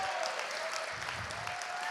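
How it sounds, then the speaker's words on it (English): An audience at a nursing school pinning ceremony claps steadily in a dense, continuous burst of applause filling the room. "give them a round of applause"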